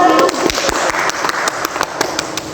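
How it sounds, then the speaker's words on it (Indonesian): Classroom applause for a student named Rian during a group guidance session, a lively patter of many hands clapping with distinct sharp claps standing out, after a brief voice at the start. "tepuk tangan untuk Rian"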